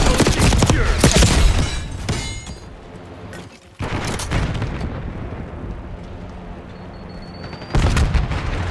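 Frag grenade and gunfire explosions in Call of Duty: Black Ops 6 multiplayer, with loud booms and bursts near the start, a brief drop, then more heavy blasts and rumbling action, with a little game voice.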